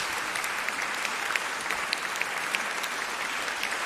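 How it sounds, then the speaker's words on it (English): A debate audience breaks into a dense, steady round of applause, many hands clapping continuously at an even level throughout. "Round of applause."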